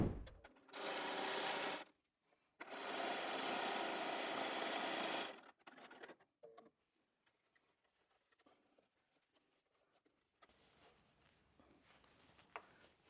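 A sewing machine stitching a seam on grid interfacing for an appliqué wall hanging: two steady bursts of fast, whirring motor hum, each a few seconds long, followed by quiet handling and fabric rustles.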